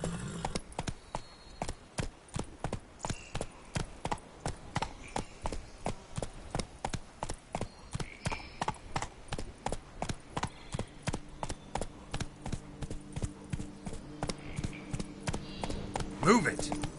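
Roach the horse gallops in The Witcher 3, hooves beating a steady, fast clip-clop rhythm throughout, with a voice speaking briefly near the end.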